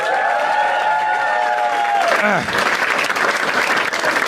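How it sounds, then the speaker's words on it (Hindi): A stand-up comedy crowd breaks into loud, sustained applause that swells after a fading musical tone, dense clapping continuing to the end with some cheering underneath. "सब ताली बजा दो"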